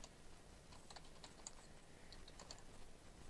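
Typing on a computer keyboard while entering text for a custom short link: light, quick key clicks in an irregular run, close but faint over steady background hiss.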